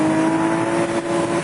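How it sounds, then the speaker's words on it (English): A Porsche Boxster 2.5 engine revs hard after a downshift, a loud, steady and close mechanical howl with a strong sustained tone that sags slightly near the end. "when you drop it down a gear or two and give it some revs"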